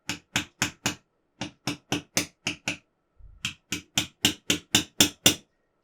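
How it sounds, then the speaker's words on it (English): A hammer strikes sharply in quick, even taps on pipes being driven into holes in a 1:8 scale Mercedes W196R model, a run of four, then more after a short pause, ending in a steady series of crisp knocks. "Help that on its way with my hammer there."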